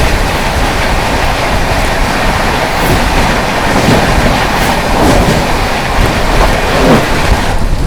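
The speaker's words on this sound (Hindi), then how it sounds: "मुंबई सेंट्रल न्यू दिल्ली तेजस राजधानी एक्सप्रेस क्रॉसिंग हुई है भाई" Mumbai Central–New Delhi Tejas Rajdhani Express crossing alongside on an adjacent track: a loud, steady rush of wind and rolling wheels with faint clatter throughout, close and unbroken, no voices.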